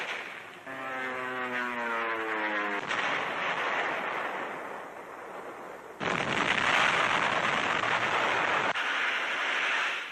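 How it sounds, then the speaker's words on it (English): Wartime combat in 1945 northern Burma, dive bombers striking a few hundred yards ahead of advancing infantry: a rising engine drone gives way to continuous rumbling blasts and gunfire, loud and dense, with a sharp jump in intensity midway. "Dive bombers pave the way, only a few hundred yards ahead of advancing infantry."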